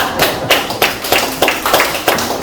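An audience at a lecture on encouraging marriage and childbirth claps together in quick bursts, the applause swelling in roughly half-second pulses of loud, close hand-claps with no voices over it.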